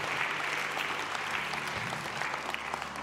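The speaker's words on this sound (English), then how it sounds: "Let's give a hand clap to all of y'all who made a decision to Christ" Sustained applause from a church congregation during a worship service, even and continuous clapping filling the room at moderate loudness.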